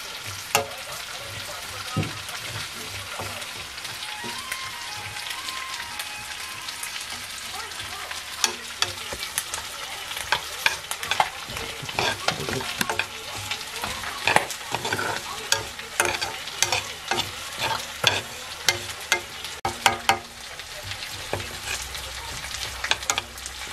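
Kapra shoots being stirred and fried in a pan for pickle, with a steady sizzle and frequent scraping stirs throughout, no talk.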